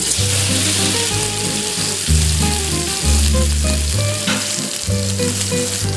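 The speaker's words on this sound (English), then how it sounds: "the oil is nice and hot, and in goes the steak" Sirloin steak searing in hot olive oil in a pan, a loud, continuous close-up sizzle with a crackling hiss throughout, heard under a sustained musical backdrop with no talking.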